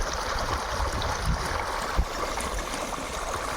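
Water flows and gurgles continuously nearby, a steady rushing stream with a couple of small splashes.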